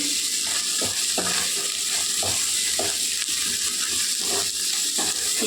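Mutton curry with mango and chili powder frying in oil, a loud close sizzle with repeated scraping stir strokes through the pan and no voices.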